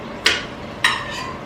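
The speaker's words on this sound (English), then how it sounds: "So for the salsa, we're going to put in our tomatoes" Tomatoes dropped into a container for salsa, two bright clattering impacts about half a second apart, close and clear with a quick ringing decay.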